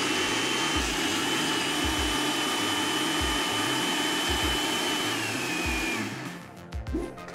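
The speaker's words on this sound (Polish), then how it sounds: "I blendujemy!" A kitchen blender whirs steadily at close range, blending a chili sauce with lemon, mirin and sesame oil, a loud continuous motor drone that runs for about six seconds before cutting off into a few clunks.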